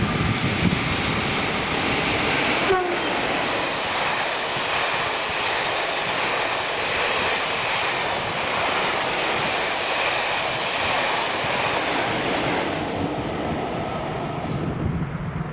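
Class 40 diesel locomotive 40013 leading Class 47 47593 on a Statesman railtour passing Wallingford, a steady loud broadband roar of engine and rolling stock sustained throughout, with no speech.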